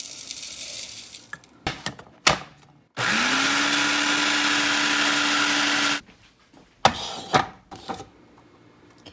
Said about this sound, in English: just throw it into your food processor or blender and blend it